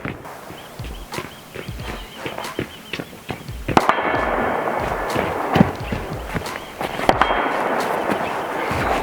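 Repeated sharp reports from a Huben K1 airgun fired outdoors, a rapid uneven string of close, loud cracks with a steady hiss running beneath them.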